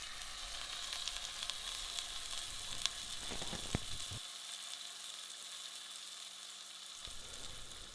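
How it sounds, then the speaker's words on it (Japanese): Veal on the bone sears in hot olive oil in a thick-walled cocotte pot, a steady close sizzle and crackle that runs throughout, with a few sharper pops near the middle. "ココット鍋よく温めて、そこにオリーブオイルを入れます。 その後まず側面から軽く火を入れていきます。"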